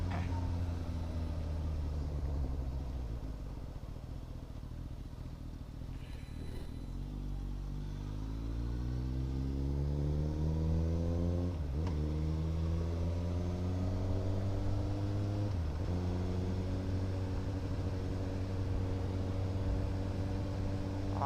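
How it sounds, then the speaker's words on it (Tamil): Suzuki GSX-S1000 motorcycle engine riding at night, a continuous close drone that climbs through gears with rising harmonic sweeps and brief dips at shifts, loud and steady with no talking. "நம்ம வண்டி சவுண்டு மட்டும் அப்படியே தனியாக வருது"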